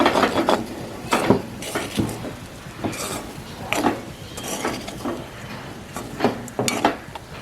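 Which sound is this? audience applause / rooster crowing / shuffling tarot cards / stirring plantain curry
stirring plantain curry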